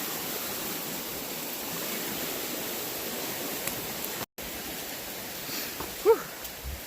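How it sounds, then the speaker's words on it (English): Steady broadband rush of a high, fast-flowing stream on the Appalachian Trail, loud and continuous, with a brief dropout and a small splash or knock near the end. "That water is up and moving."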